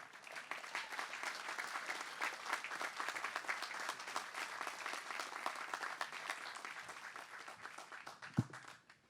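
Sustained applause from a college commencement audience welcoming a guest speaker, a steady wash of many hands clapping at moderate distance with no break for about nine seconds.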